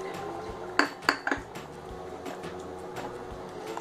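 A metal spoon stirs sambhar masala into tamarind water in a cooking pot, giving a few sharp clinks against the pot wall early on, then softer scraping and swishing.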